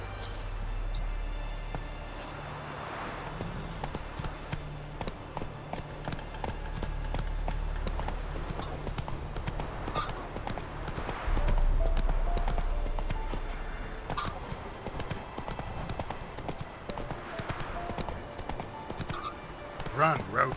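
Horse galloping in The Witcher 3, steady rhythmic hoofbeats clip-clopping throughout with an occasional whinny, while people talk over the moderate-level running.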